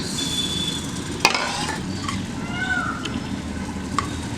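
Mashed curd poured into hot ghee and stirred in a pan, a soft continuous sizzle with scraping ladle strokes and a couple of sharp clinks against the metal, close and steady throughout.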